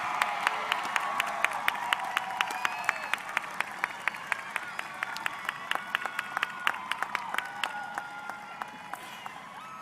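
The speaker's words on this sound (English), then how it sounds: "Let's give them a round of applause." A graduation-day audience applauds scholarship recipients, many hands clapping in a steady crowd wash punctuated by sharp, close individual claps, with a few cheers and voices mixed in before it tapers off.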